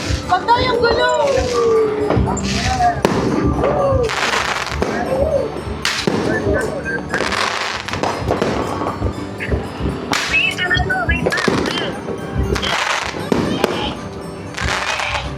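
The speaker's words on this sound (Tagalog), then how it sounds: "Oh, dami fireworks." New Year fireworks burst repeatedly nearby, with loud sharp bangs and crackles in irregular bursts, while people talk and shout over the explosions.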